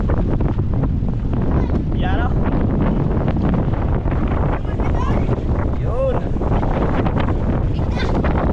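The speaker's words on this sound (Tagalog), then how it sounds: "Grabe ng hangin." Strong typhoon wind buffets the microphone in a constant roar while someone speaks briefly underneath it.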